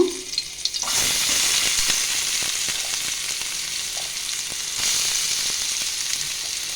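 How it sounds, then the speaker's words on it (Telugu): Chopped onion and curry leaves drop into hot oil for an egg omelette curry and burst into a loud, close sizzle that settles into steady frying, swelling again near the end, with no talking. "వేడయ్యాక మనం కట్ చేసి పెట్టుకున్న ఉల్లిపాయ ముక్కలు వేసుకుందాము"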